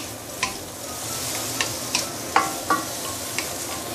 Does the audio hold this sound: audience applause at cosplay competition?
no